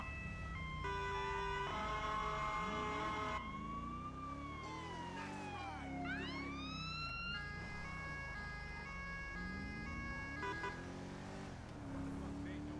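A police car siren in the LSPDFR video game wails and yelps continuously during an emergency response, switching between tones over steady engine drone, with someone speaking Danish over it.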